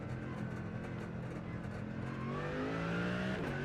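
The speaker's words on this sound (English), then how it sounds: "I do like the way this car sounds." A GT3 race car engine in the iRacing sim, droning steadily and then climbing in pitch as it revs up, heard alone without any talk.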